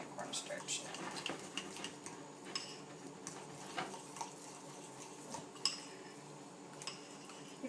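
Cornstarch being stirred into liquid coconut oil in a small bowl for homemade deodorant, giving faint, irregular clinks and scrapes of a utensil against the container, quiet and close with soft background noise.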